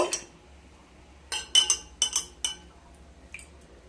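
A spoon stirs juice in a glass with a cluster of bright, sharp clinks against the sides. The taps come in quick bursts between quiet gaps and sound close.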